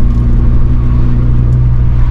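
A manual six-speed car cruises in sixth gear at about 2000 rpm, its engine a steady low hum and road rumble heard from inside the cabin, with no one speaking.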